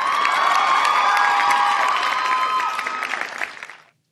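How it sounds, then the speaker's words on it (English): A studio crowd breaks into a burst of applause and cheering with whoops for a guest, loud and dense for about three seconds before quickly dying away. "Let me give you a round of applause."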